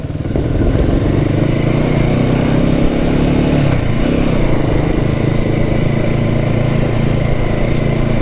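A Royal Enfield motorcycle engine drones loud and steady while riding, a continuous close thrumming roar with a slight shift in pitch partway through and no talking.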